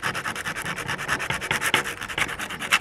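Paint is scuffed off a cast iron woodstove part with abrasive, rapid back-and-forth rasping strokes that sound close and fairly loud, slightly uneven in rhythm.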